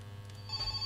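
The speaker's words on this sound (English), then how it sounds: "Phone is ringing." A telephone rings inside the video game My Summer Car, a short electronic ring rising over a steady low engine-like hum, moderately loud and close, with no talking.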